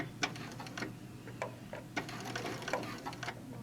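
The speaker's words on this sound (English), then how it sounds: "we're just going to sew a little bit slower" Longarm quilting machine sewing a slow tacking stitch on a quilted bag binding, a steady mechanical hum with regular ticking needle strikes, close and unaccompanied by talk.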